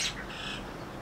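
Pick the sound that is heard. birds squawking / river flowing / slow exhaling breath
birds squawking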